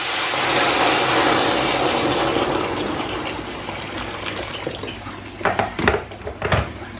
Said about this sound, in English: I'm just going to throw some water in there.